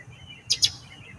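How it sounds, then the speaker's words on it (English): Birds outdoors give two quick, bright chirps in close succession over faint background hum, short and moderately loud. "See the birds?"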